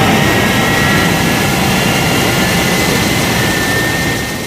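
The Thunderbird 1 aircraft lifts off with a loud, constant jet roar, a dense rushing blast holding steady throughout before easing slightly at the end.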